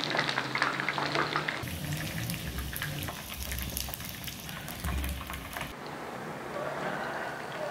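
Chicken pieces sizzle and crackle steadily in hot oil for a sweet and sour chicken dish, a dense continuous frying hiss with bursts of louder spitting, no talking.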